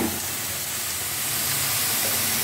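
Onions sauté in a hot pan for aranmanai kuzhambu, giving off a steady, soft sizzling hiss with no voices over it.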